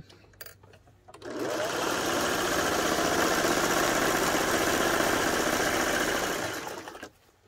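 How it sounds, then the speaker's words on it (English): An electric sewing machine runs at steady speed for about six seconds, stitching a seam along the edge of a pillow, its rapid mechanical whir loud and close, with brief handling sounds before and after. "Sew it as straight as you can."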